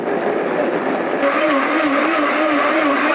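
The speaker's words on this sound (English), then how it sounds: "In the blender, puree." A blender whirs steadily, its motor pitch rising and wavering slightly as it purees soft fruit, loud and close throughout.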